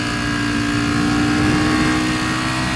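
Ducati V4 Speciale motorcycle engine under acceleration, a loud, steady, close roar that holds for the whole stretch with no break and no voices.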